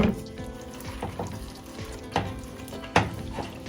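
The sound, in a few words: stirring peanut brittle candy mixture in a pot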